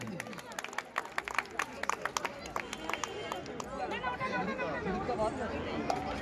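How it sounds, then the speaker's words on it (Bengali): An audience welcoming a dancer onstage with clapping, a few sharp close claps at first building into a denser round of applause mixed with crowd chatter and voices. "সবাই মিলে হাতের তালি।"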